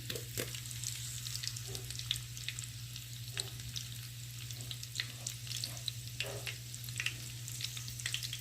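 Green chillies and curry leaves frying in hot oil, a soft steady crackle and sizzle with scattered small pops over a low hum, faint and continuous.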